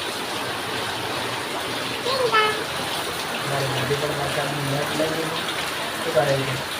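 Heavy rain pours down steadily in a Banaskantha village during the evening, a dense continuous hiss with a person talking over it now and then.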